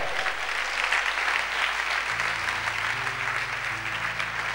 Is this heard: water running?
no